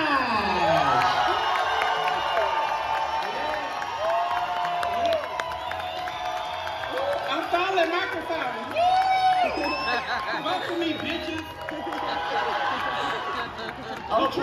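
A live audience at a RuPaul's Drag Race Live show in Las Vegas cheers, whoops and claps steadily throughout, loud and dense, with crowd voices and shouts mixed in.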